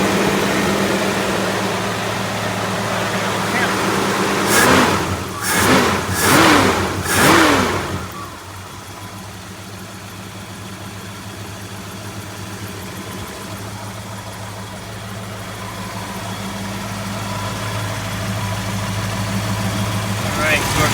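A 1965 Ford Ranchero engine running after valve cover and fuel line work, with a few sharp revs early on, then settling into a steady, loud idle with a low rumble for the rest of the time.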